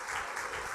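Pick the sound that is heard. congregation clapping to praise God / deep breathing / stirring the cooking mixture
congregation clapping to praise God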